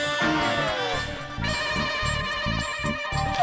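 A telephone ringtone plays as a call is placed, a steady electronic tone repeating in a quick pulsing pattern at close range over a busy indoor sitcom scene.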